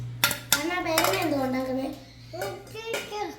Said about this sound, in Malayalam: ഇനി അതെല്ലാം കൂടെ ചേർത്ത് നല്ലതായിട്ട് മിക്സ് ചെയ്യണം